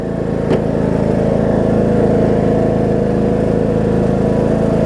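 John Deere D105 riding mower, a low-hour estate find with a plastic transmission, running with a steady, droning small-engine hum, close and continuous with no talk.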